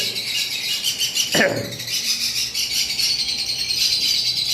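Fischer's lovebirds, a pair with a green male and yellow-green female, chirp in a bird shop, giving continuous high twittering over a noisy background, with one louder sweeping call cutting through near the middle.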